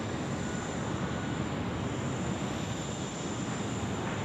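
A Boeing 737 freighter arriving from Darwin comes in to land at Sydney Airport, its jet engines a steady broad roar heard from nearby without voices.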